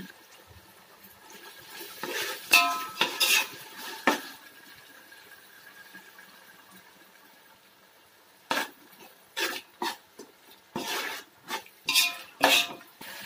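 Ceramic plates and steel cutlery clink and knock in a home kitchen during cabbage Manchurian preparation, two short bursts of clatter near the start and a longer run of sharp knocks later, with quiet pauses between.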